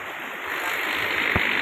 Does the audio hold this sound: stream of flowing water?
yes